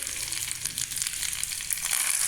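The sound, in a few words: mustard seeds sizzling in hot oil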